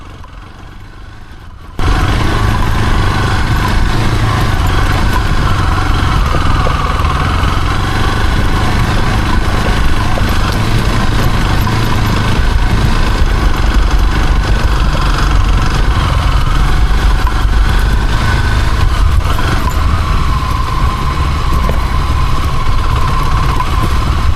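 An off-road motorcycle engine drones steadily while riding backcountry trails, starting abruptly after a moment of quiet and then holding a loud, rough, continuous roar with slight variations in pitch for the rest of the stretch.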